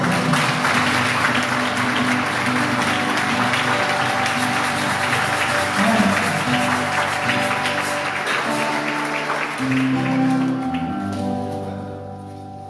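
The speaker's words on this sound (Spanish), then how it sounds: "Vamos a dar un aplauso." A church congregation claps steadily for several seconds, dense applause that thins toward the end as sustained organ or keyboard tones play beneath.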